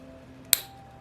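An engine bolt on a never-opened OS FS61 model four-stroke engine cracks loose as it is untorqued, giving a single sharp, brief crack close by against a quiet background.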